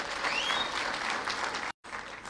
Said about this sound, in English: Another hearty clap for the CEO GlobalEC.